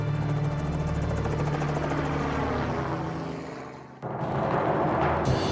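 A helicopter flies above the Knik River Valley in Alaska, its steady rotor thump and engine whine loud and continuous throughout, with a brief dip in intensity before the roar returns.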